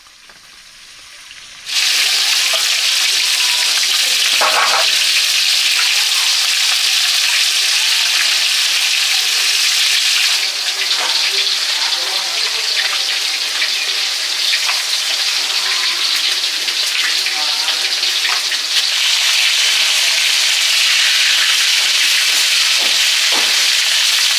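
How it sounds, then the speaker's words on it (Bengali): Fish sizzles in hot oil. The loud, dense crackling and hiss starts abruptly after a quiet moment and keeps going steadily for over twenty seconds, close by and with no voices. "মাছ ভাজা মোটামুটি হয়ে গেছে।"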